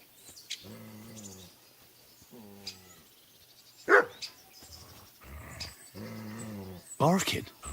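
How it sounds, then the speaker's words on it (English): A dog barks in the medieval video game Kingdom Come: Deliverance II. Two short, sharp barks ring out between stretches of voices talking. "Barking."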